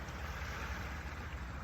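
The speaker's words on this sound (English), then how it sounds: "the sound of the waves crashing appears to be happening outside of you" Ocean waves wash in a constant broad roar of surf, like water churning near the shore, with a rumbling low end that may include wind. It is steady and faint throughout, with no voices.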